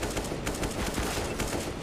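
Gunfire in a Counter-Strike: Global Offensive pistol round, with USP pistols in use: a dense, rapid burst of overlapping shots that forms a loud, sustained crackle over the game's ambience, and no voices.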